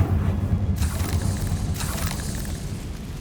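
A Confringo spell explodes in Hogwarts Legacy, a deep rumbling boom with two sharp bursts of blast noise a second apart, then a lingering low roar that slowly fades.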